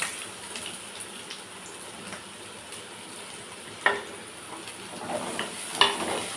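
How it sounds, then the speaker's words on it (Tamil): Chopped onions frying in sesame oil in a pan for an egg stir-fry, a soft continuous sizzle punctuated by a few sharp clinks and scrapes of a spatula stirring. "நல்லா வதக்கிக்கலாங்க"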